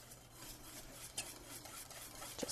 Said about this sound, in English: moving your whisk all along the bottom of the pan.